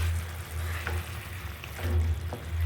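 Rohu fish fat frying in a pan, a soft, steady sizzle with faint crackles over a low background hum, close and fairly quiet, no voices.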